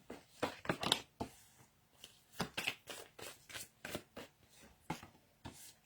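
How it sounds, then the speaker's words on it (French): Tarot cards are shuffled by hand in a quiet room, a close series of soft papery riffles and slaps in irregular clusters. "je vais tirer plusieurs cartes"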